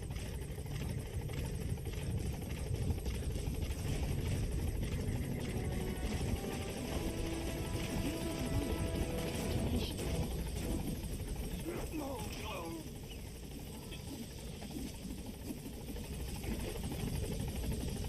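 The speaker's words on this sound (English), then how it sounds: "Support helicopter has arrived." A support helicopter arriving in a military video game, its rotor and engine drone filling the clip as a steady, loud buzzing hum that dips slightly midway, with game voices talking over it.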